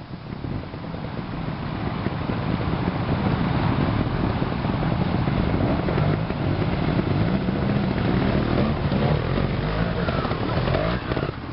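Motorcycles on an off-road route splashing through a water crossing, a loud continuous engine drone with churning water noise, with voices shouting over it.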